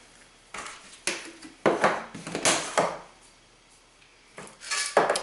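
Freeze-dried onion tossed into a pot on a wood stove gives several dry rattling, scraping bursts against the metal, near and moderate, separated by short quiet gaps.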